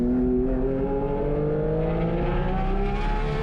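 A Porsche 718 Cayman GT4 RS with PDK gearbox on a track, its engine revving steadily toward redline, a loud, close, continuous rising mechanical howl with clear harmonic whine and no talk.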